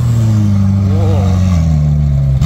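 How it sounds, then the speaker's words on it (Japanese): McLaren 720 supercar with a steady, loud engine drone, pitch briefly rising and wavering midway as it revs, beneath crowd chatter and other engines at a car show at Fuji. "お、マクラーレン。 すげえ。 マクラーレン720。"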